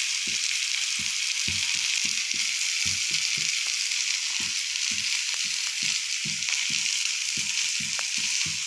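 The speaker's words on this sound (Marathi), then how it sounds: "अशा प्रकारे शिमला मिरची पण त्यामध्ये परतून घ्यायची आहे." Bell peppers (capsicum) sauté in a pan over low heat with a constant sizzling hiss, punctuated by frequent soft knocks and scrapes of a spatula stirring.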